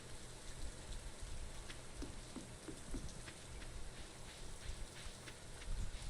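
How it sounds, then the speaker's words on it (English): Steady rain falling in a farming video game, a continuous soft hiss with scattered drop patter throughout, fairly quiet and alone with no talking. "Actually, love the sound of the rain in this."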